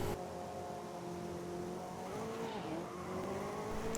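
Race car engine in GRID 2019 holds a steady high whine with shifting pitch, tires squealing through a corner as the car is driven aggressively, close and continuous throughout.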